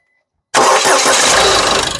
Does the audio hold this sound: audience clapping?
no